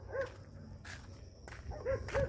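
A dog that pulls on its leash during a walk gives a few short, sharp barks and yips at moderate distance, spaced across the moment over low background rumble.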